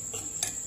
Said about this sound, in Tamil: இதை கட்டி பிடிக்காமல் கிளறிட்டு கொஞ்சம் கெட்டி ஆனோன்னா கேஸ் ஆஃப் பண்ணிடணும்